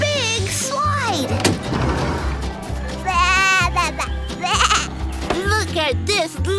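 A baby goat bleats several times in a cartoon-style farm scene, its cries mixed with a steady music bed and voices talking over them.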